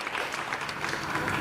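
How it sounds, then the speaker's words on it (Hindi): Crowd clapping at an Independence Day village programme, honouring the village head: steady, dense applause throughout, moderately loud and unbroken. "सरपंच महोदय जी ताली बजाइए"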